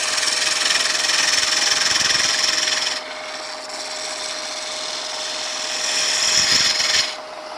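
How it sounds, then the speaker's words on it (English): A woodturning lathe makes a rub-the-bevel cut while deep-hollowing a turned piece. A steady, close whine carries a hissing cut that swells in two stretches and eases between them. "I'm going to go back and go to this rub the bevel cut here"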